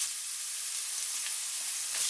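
Sliced onions sautéing in a pan for a Tamil poori potato masala, a steady close hiss of frying with no voices, lasting only a couple of seconds.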